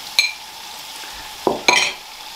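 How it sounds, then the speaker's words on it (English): Steak fries in a pan over high heat with a steady, soft sizzle, broken by a few brief metallic scrapes and clinks of a utensil moving the meat. "I'm just going to fry that over a high heat until it's nice and browned all over"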